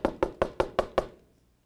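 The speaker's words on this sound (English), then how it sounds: "I'll knock again." Six evenly spaced knocks land on a box, each a close, hollow thud with a short decay. A brief fading resonance follows the last knock.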